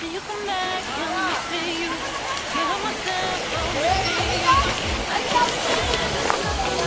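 A river rushes along a bike trail in Carmona, Cavite, its steady broadband wash running underneath lively nearby talk and chatter.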